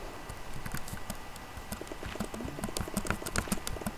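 Horse hooves clopping in Minecraft, hardcore mode, a quick run of light, regular clip-clop steps that stay near and steady over a soft game ambience, with no talk.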